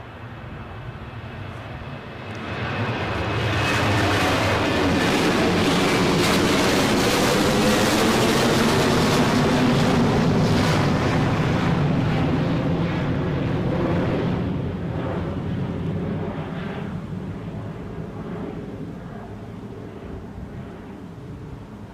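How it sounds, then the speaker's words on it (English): A TUI Boeing 737 departing Newcastle airport on a windy day, with a deep jet engine roar swelling after a few seconds, holding loud and broad, then slowly fading as it climbs away. "As we're watching this TUI 737 departing to Antalya."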